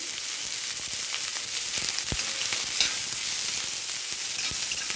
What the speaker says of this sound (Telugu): ఉల్లిపాయలు కూడా బాగా వేగిపోయినాయి